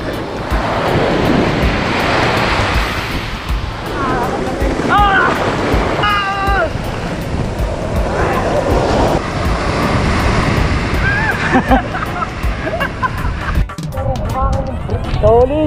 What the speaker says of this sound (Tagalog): Solid ang alon.